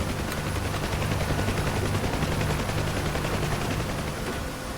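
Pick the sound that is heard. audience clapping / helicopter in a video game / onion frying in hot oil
helicopter in a video game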